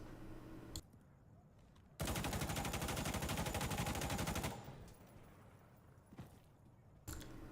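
Mk18 rifle in Insurgency Sandstorm firing through wooden cover: a loud, sustained burst of rapid automatic shots lasting a few seconds, framed by quieter room tone and a couple of faint thuds.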